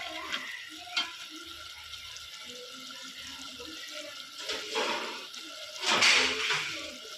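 Water is poured into a grinder jar of ground rasam spices in a few short splashing bursts, the last gush loudest, with quiet clinks and trickles between.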